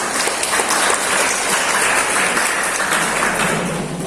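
Audience applause at an academic conference event, a dense, steady wash of clapping from a crowd that holds at an even level throughout and thins slightly at the end.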